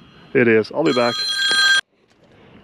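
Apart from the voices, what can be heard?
mobile phone ringing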